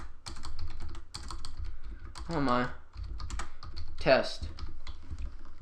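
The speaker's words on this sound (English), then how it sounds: "I'm going to type within this one" Quick clicking keystrokes on a computer keyboard come in short irregular bursts, close and clear, while someone talks over them.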